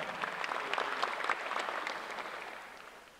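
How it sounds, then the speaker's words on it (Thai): Audience applause at the 37th Bangkok International Motor Show, a steady wash of many hands clapping in a large hall, fairly loud at first and gradually thinning and fading over about three seconds. "ขอเสียงปรบมือดังๆให้กับงานบางกอก International Motor Show ด้วยครับ"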